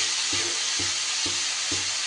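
Pumpkin frying in a pan over medium-low heat gives a continuous close sizzle, broken by four evenly spaced scrapes of a spatula stirring it.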